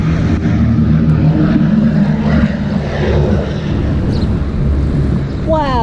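A World War II era propeller airplane drones loudly overhead, a broad rumbling roar that holds steady and then fades, with people talking beneath it and a short whistling sweep near the end.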